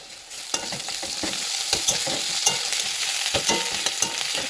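Onions frying with ground garlic and ginger paste in a hot wok, a continuous crackling sizzle punctuated by regular spatula scrapes and taps, near and loud with no voices.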